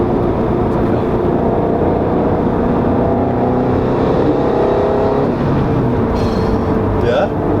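A turbocharged Subaru Crosstrek engine pulls hard with a continuous loud, droning roar from inside the cabin, while people talk and react over it.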